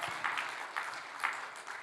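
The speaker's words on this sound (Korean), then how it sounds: "박수 한번 쳐보세요" A small church congregation claps in a brief burst during a Tuesday evening prayer service, the claps uneven and fairly faint, with swells of clapping rising and fading.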